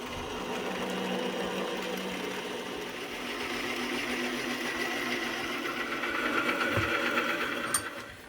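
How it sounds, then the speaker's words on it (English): A flat 1/2-inch end mill faces a metal cube held in a 4-jaw chuck on a Harbor Freight mini lathe, giving a steady, even machine whir that runs unbroken throughout. "This is my flat 1/2-inch end mill, and that's what I'll be using to finish off these faces."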